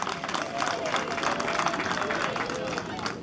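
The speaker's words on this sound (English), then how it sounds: "let's applaud this lady because she's able and she's doing it" An audience at an International Nurses Day commemoration in Uganda claps for a nurse, a dense steady wave of applause from a crowd with voices mixed in.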